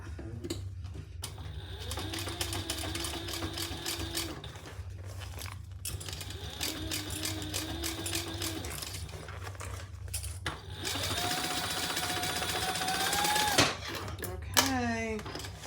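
A sewing machine runs in several steady stitching bursts with short pauses between, close and fairly loud, while someone talks over it.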